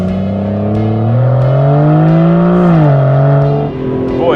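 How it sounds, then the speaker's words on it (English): A priceless one-of-a-kind Aston Martin DB11 prototype driving out on a track, its engine a loud, steady close-up drone with rising and falling pitch as the throttle is worked, heard from inside the car. "heading out on the track in the priceless, one-of-a-kind Aston Martin DB11 prototype."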